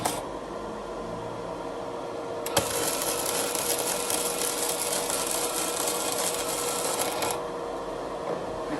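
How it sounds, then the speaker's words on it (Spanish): Flux-core MIG welding on a pipe with an EVOMIG-220 welder at about 58 amps: a steady, bright crackling buzz starts with a sharp strike and runs for about five seconds, then stops, leaving quiet room noise. "Voy a ver si puedo soldar el caño en retroceso sin agujerearlo."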